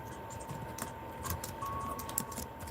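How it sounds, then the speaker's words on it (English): Close, fast typing on a computer keyboard gives a steady patter of light clicking keystrokes with a faint constant tone beneath, no voices. "I'm actually typing that."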